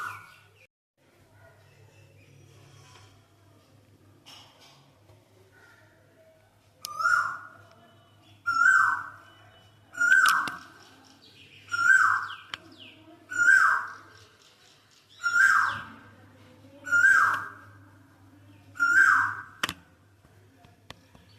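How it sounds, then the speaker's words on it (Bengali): An Asian koel calls repeatedly in spring in a village, a rising two-note whistle roughly every second and a half, clear and moderately near, with quiet background hum. "বসন্তকালে এরকম কোকিলের ডাক"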